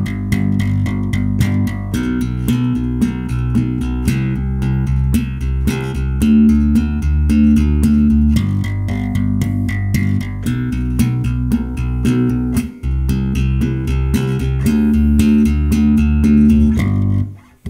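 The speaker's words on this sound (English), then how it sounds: "we'll play a very simple pedal rhythm through the notes using the double thumb technique" Electric bass played with a double thumb slap technique, a driving steady eighth-note pedal rhythm of punchy, percussive notes, loud and continuous.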